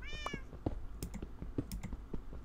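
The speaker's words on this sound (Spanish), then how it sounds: "El gato no vea si hace ruido" A house cat meows amid a Minecraft gaming session, a short rising cry near the start followed by keyboard typing and clicking clatter, close and moderately loud with no talk.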